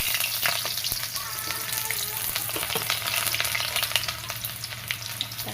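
Onions dropped into hot oil for a potato and fish curry, a loud continuous sizzle and crackle with sharp spitting pops and occasional stirring scrapes, steady throughout with no talking.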